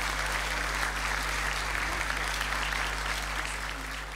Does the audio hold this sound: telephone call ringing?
no